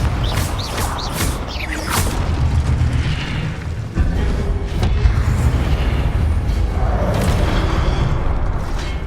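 Confringo blasting spell explosions in Hogwarts Legacy on the highest difficulty during Charles Rookwood's Trial, a series of booming blasts and whooshes over a dense game soundscape, with a sharp break near the middle and no talking.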